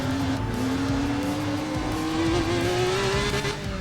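A BMW engine in the Need for Speed ProStreet racing game drones loudly and steadily, its pitch rising slowly as the car accelerates, with faint tire noise underneath.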